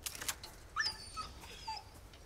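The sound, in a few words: dog whimpering in video game Resident Evil 4 Remake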